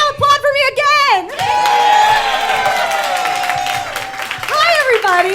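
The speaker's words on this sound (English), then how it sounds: "Now applaud for me again." A live audience at a Halloween comedy show in Chicago claps and cheers loudly for several seconds after a voice on stage prompts them.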